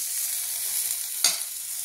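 Grated ginger lands in a pan of fried onions, and the steady high hiss of frying jumps into a sharp, brief sizzle near the end. Close and loud, no voices.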